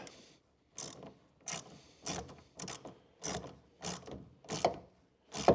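A 6mm socket on a ratchet tightens a clip onto a drain pipe while a ProRoll roller shutter is fitted to a Ford Ranger Tremor, giving about nine evenly spaced ratcheting clicks, close and fairly quiet, with no talking.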